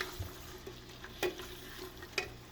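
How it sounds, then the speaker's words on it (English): Canned beans cooking in a pot, a quiet low simmer with a few sharp scrapes and clinks of a spoon as they are stirred. "We add the beans. And stir it."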